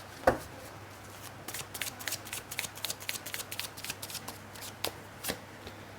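Tarot cards shuffled by hand for a reading, a close run of quick papery riffles and flicks in uneven bursts after an opening tap, quiet between strokes, with no talking.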